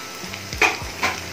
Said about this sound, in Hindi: अब इसमें हमें लहसुन और अदरक का पेस्ट डालना है